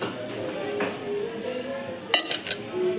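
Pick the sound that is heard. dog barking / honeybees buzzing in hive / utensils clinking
utensils clinking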